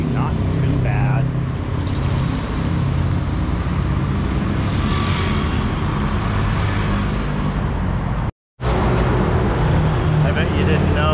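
Evening street traffic in Jomtien, Thailand: a continuous roar of passing cars and motorbikes heard close by while walking, with a voice speaking over it and a brief dropout near the end.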